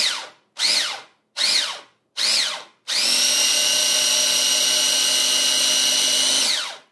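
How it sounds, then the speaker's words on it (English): A small electric mini food chopper whirs as it chops herbs, pulsing in four short bursts before running steadily for several seconds, loud and close, with no talking. "you see how quickly that chopped the ingredients very finely"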